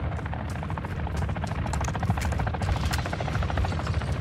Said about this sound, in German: Da hinten kommt ein Heli.